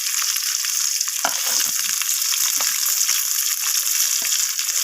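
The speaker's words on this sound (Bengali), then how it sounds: "এরপর আমি স্কোয়াশগুলোকে তেলের মধ্যে দিয়ে দিলাম। তো আলুর মতোই করে আমি স্কোয়াশগুলোকে ভেজে নেব।" Squash pieces frying in hot oil with salt give a steady, dense sizzle throughout, with a few soft clicks of stirring scattered across it and no talking.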